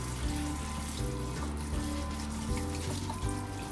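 Quinoa being rinsed by hand under a running kitchen tap, a steady close rush of water into the sink with faint stirring splashes throughout, no voices.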